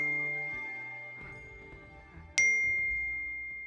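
A phone message notification rings out as a single bright ding, sharp at first and then ringing on, following a quieter stretch of sustained tonal sound.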